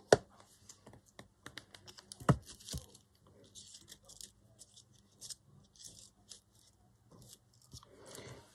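Scissors snip through small leftover scraps of paper for crafting, sounding as sharp, irregular close clicks and cuts with quiet rustling between them, fairly soft overall.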